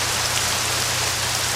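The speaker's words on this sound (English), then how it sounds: "that rain sound is just way, way, way too loud" Steady, dense rain hiss from the TerraFirmaCraft video game, a loud, even downpour with no breaks and no voices.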